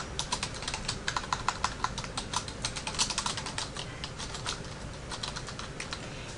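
Fingers type on a computer keyboard in a quick, uneven patter of close, soft clicks with no talking.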